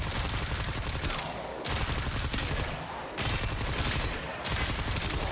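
Quellor weapon firing at enemies in the Warframe video game, dense rapid gunfire in sustained bursts broken by brief pauses, loud and continuous throughout.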